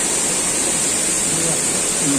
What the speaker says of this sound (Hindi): अभी पानी का आवाज़ बहुत ही आ रहा है